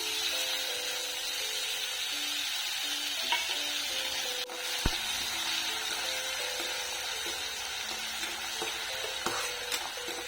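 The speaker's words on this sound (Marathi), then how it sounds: "तेल तापलेलं आहे आणि आता आपण त्यामध्ये जिरे टाकणार आहोत लगेच आपण त्यामध्ये बटाटे टाकून घेणार आहोत" Cumin seeds and potatoes frying in hot oil for sabudana khichdi, a steady broadband sizzle with occasional stirring scrapes and a sharp knock midway, no voices.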